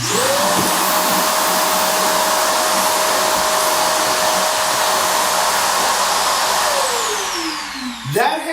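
A Shark vacuum cleaner sucking up pet hair in a home: a loud, steady, close whine that runs throughout with a fixed pitch, then winds down at the end.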